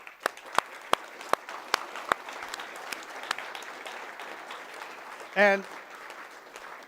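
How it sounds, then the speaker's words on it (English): A conference opening ceremony audience breaks into applause, starting with a few sharp, loud claps and settling into a steady wash of clapping from a mid-sized crowd, with a brief spoken word near the end. "So just a huge round of applause."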